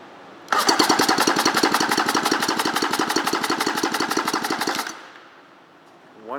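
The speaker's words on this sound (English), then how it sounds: "Going to do an engine compression test." A 1996 Tigershark 640 engine is cranked by its starter for a compression test on the PTO side, giving a loud, rapid, even chugging pulse for about four seconds before it stops.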